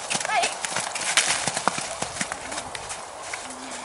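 A horse half trotting, half jumping over a low bar during a riding session, with rapid hoof clip-clops at close range and a brief whinny, under ongoing talk.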